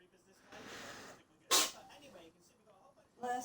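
A single sharp sneeze bursts out close by, surrounded by quiet murmuring voices.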